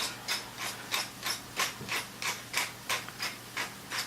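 Hand-cranked meat grinder working through a batch of meat for garlic and onion meatballs, squeaking and grinding in a steady rhythm of about eleven evenly spaced strokes, close and dry-sounding, with no talking.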